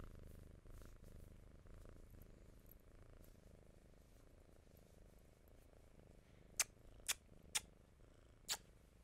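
A house cat purrs quietly and steadily up close, with a few sharp faint clicks near the end.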